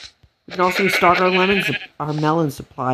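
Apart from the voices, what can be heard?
sheep bleating in a video game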